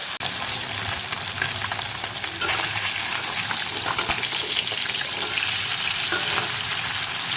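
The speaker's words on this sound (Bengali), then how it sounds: "অল্প কিছু করে করে মাছটাকে কিন্তু ভেজে নিতে হবে" Boroli fish frying in a pan, a steady, loud, dense sizzle and crackle that runs unbroken from start to finish with no voices.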